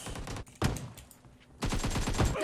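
Gunfight in PUBG Mobile, bursts of rapid gunfire in quick succession, loud and close, with a short lull between volleys.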